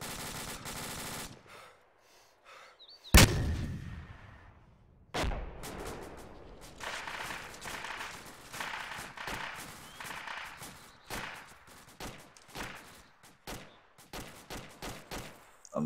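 Gunfire in a team combat session, heard as a loud sharp blast followed by repeated irregular shots and bursts, some closer and some farther off, with no talking.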